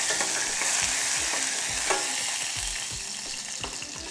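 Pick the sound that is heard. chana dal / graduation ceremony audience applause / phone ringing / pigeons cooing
chana dal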